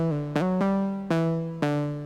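A monophonic synth plays a main melody line of sustained, harmonically rich notes with sharp attacks, about five notes over two seconds, heard alone at moderate level.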